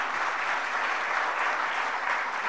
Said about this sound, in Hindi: जरा तालियां बजा दीजिएगा इसके लिए।